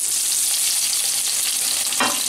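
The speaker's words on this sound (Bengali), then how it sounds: "প্রথমে আমি পিস করা ডিমগুলোকে একটু ভেজে নেব" Boiled egg pieces fry in two tablespoons of hot mustard oil, a steady bright sizzle with a short louder crackling burst near the end, close and with no voices.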